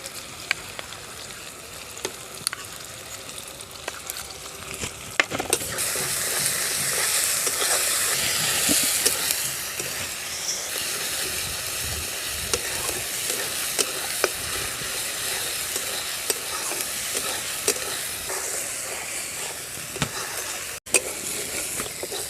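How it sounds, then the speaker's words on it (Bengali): Onion, ginger and garlic paste spice mix frying in a pan for a village-style chicken curry, with steady sizzling and occasional stirring scrapes, rising louder partway through. "মশলাটা খুব ভালোভাবে কষে নিয়েছি।"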